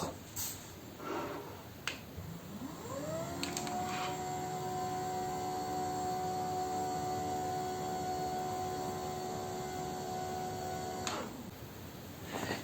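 A motorized AIMEZO height-adjustable desk frame with three-stage telescopic legs raises its top, giving a steady electric motor hum that starts after a few clicks, runs evenly for several seconds, then stops.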